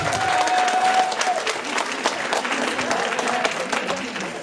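An audience at a local talent show in Damelevières applauds the mayor, a dense, loud wash of clapping that stays steady throughout, with a brief whistle near the start.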